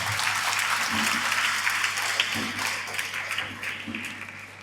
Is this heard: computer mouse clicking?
no